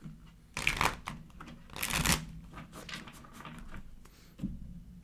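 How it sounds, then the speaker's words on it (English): Tarot cards are shuffled close by in two quick riffling bursts, with softer handling and card taps between them. "Let's do one more shuffle here."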